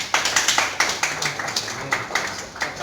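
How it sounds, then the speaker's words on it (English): A group claps hands in quick, even rhythm at a hospital stem cell unit launch event, sharp close claps repeating several times a second. "Claps."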